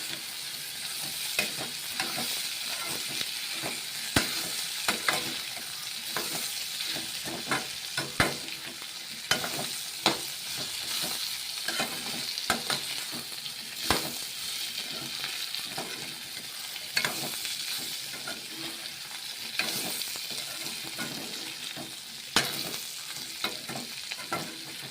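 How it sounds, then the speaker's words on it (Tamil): Ivy gourd stir-fried in a pan for a poriyal, a continuous loud sizzle broken by repeated scraping and stirring knocks of a utensil against the pan, with no talking. "இந்த மாதிரி மெத்தடில் நம்ம வதக்கலாம்"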